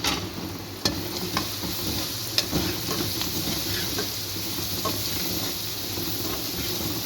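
Thin-cut carrots fry in a pan for vegetable pilau while being stirred, giving a steady close sizzle and hiss broken by scraping clicks from the spoon, with no voices.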